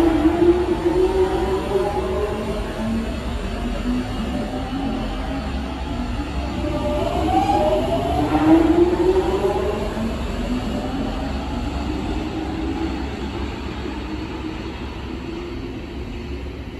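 A London Underground Jubilee Line train decelerates while its GTO inverter whines in stepped, shifting tones that slide down and jump in pitch over a steady rumble of wheels and running noise, loud and continuous throughout.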